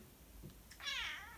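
A cat gives one drawn-out, wavering meow, close and fairly quiet, in an otherwise still room.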